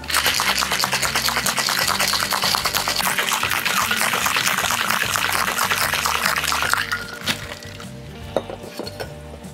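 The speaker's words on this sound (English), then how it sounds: "Let's throw some ice in the shaker tin, pour the contents into that tin, give it a big smack, smack-a-da-doo, and then shake." Ice rattling hard in a metal cocktail shaker tin for a tiki-style daiquiri drink, a dense, continuous loud clatter for several seconds that stops abruptly near the end, followed by a few isolated knocks.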